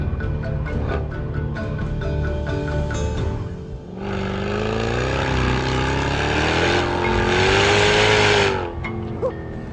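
A powerful car engine revving hard on a racetrack at the Corkscrew, with loud sustained roar, rising pitch sweeps and wheel spin, heard from close inside with no talk.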